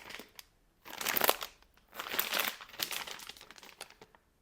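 Plastic packaging crinkles and rustles in several bursts of handling, close and fairly loud, with brief pauses between.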